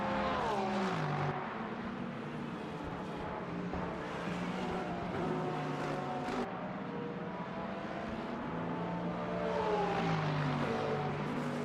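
A hypercar racing engine in the Le Mans Ultimate sim at Sebring, a steady high-pitched drone with rising and falling revs through gear changes, continuous and loud.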